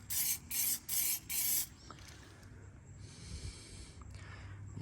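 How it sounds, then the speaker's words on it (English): Silver spray paint on an ATV frame: four short, sharp hissing bursts in quick succession, then quieter, fainter spray hiss with a little background noise. "Get a dang sprayer to work"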